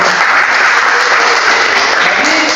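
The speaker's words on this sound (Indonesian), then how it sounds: "Berikan tepuk tangan untuk kelompok." A room full of people claps together in dense, steady applause that carries loudly through the whole moment.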